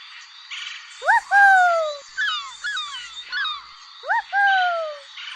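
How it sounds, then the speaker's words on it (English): Seagull calls: a series of clear, loud rising-then-falling cries in two bursts with softer chatter between, sounding fairly close over a faint background hiss. "Seagull."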